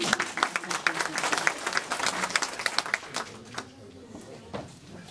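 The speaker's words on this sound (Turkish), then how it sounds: "Moral alkışta aldınız." Lively clapping from a meeting audience greets a speaker at an Atatürkist Thought Association gathering in Çine, strong for about three and a half seconds and then thinning to a few scattered claps.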